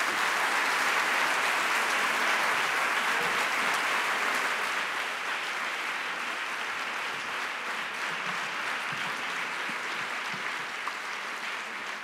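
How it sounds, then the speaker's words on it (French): Loud, dense applause from a lecture audience for two speakers at a talk on the brain and teaching, a continuous roar of hands that eases slightly over twelve seconds. "Donc déjà des applaudissements,"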